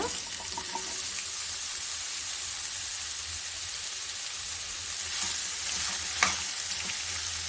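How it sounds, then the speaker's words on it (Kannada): Chopped ridge gourd frying in a hot pan for a Karnataka-style palya, giving a steady close sizzle and hiss with a few soft stirring scrapes and a small clink near the end, with no talking. "ಕಟ್ ಮಾಡಿ ಇಟ್ಕೊಂಡಿರ್ತೀವಲ್ಲ ಹೀರೆಕಾಯಿನ, ಅದನ್ನು ಇದಕ್ಕೆ ಹಾಕ್ಕೊಳ್ಳೋಣ"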